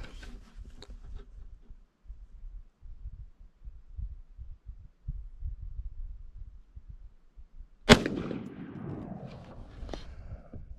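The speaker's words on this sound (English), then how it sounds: "Well, let's fire another round." A test shot from a retro M16A2 or M4A1 build rings out as one sharp, loud report after a long stretch of quiet low handling noise, then a brief fading decay.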